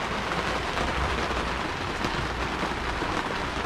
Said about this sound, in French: Il pleut et on est à l'abri